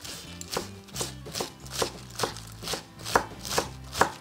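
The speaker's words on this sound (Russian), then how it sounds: "Разрежу еще капусту на более маленькие кусочки, чтобы удобнее было кушать." A knife chops Chinese cabbage on a cutting board in a home kitchen, with about ten evenly spaced, crisp thuds at a steady rhythm, close and clear, and no talking.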